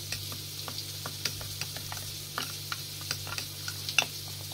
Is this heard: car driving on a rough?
no